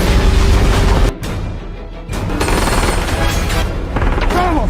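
Gunfire during a chase scene in an action film, loud and dense bursts mixed with a busy soundtrack, briefly dropping out near the middle before resuming at full strength.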